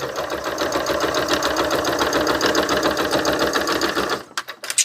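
A sewing machine runs a long, steady stitch through cotton gauze, its rapid even clatter continuing close and loud for about four seconds before stopping abruptly, leaving a few faint handling taps.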